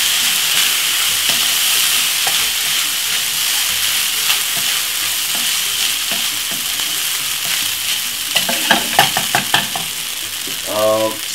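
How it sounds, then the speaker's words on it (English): Sweet chilli fried rice with a splash of soy sauce being stir-fried in a hot pan, a steady loud sizzle running throughout with spatula scrapes and stirring clatters that grow busier and sharper toward the end. "Give it a stir."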